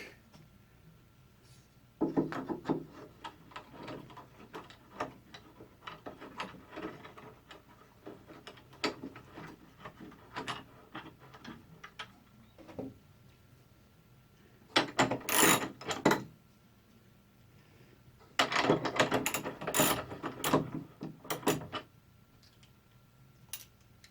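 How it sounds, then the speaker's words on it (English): A wooden floating block is screwed onto a bolt held by a locking nut on a table's leveling foot. Close, faint clicks and ticks come in bursts as the block turns on the thread. "screw the block on"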